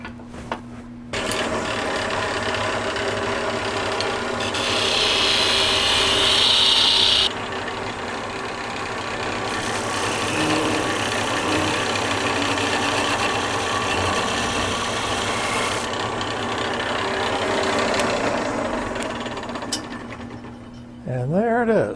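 A lathe parts off a white oak twig vase with Purple Heart pegs, a continuous loud whirring and grinding of the spinning workpiece and tool, pitch shifting as the cut deepens, before the motor winds down at the end.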